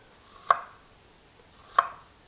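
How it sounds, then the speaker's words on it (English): Knife slicing through half of a peeled yellow onion on a board: two crisp, separate cuts about a second apart, close and fairly quiet, with no talking. "We're just going to run our knife through it."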